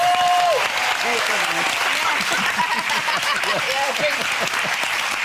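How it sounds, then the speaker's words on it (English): Loud studio audience applause for two runners-up on a daytime talk show, steady dense clapping throughout, with a voice talking over it at the start and faint vocal sounds mixed in. "Please can I have a huge round of applause for 2 lovely men"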